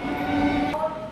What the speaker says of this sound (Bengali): এটা ভেবেছিলাম অন্য কোনো লোকাল ট্রেন, বাট এটা ছিল সিউড়ি শিয়ালদা মেমু, বাট আজকে ইএমইউ দিয়েছিল